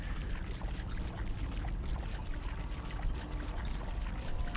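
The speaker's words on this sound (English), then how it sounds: "We're splashing in water" Water splashing and pouring in the survival video game Grounded, a steady, dense wash of sloshing, trickling liquid that carries on without pause, fairly close and alone with no voices over it.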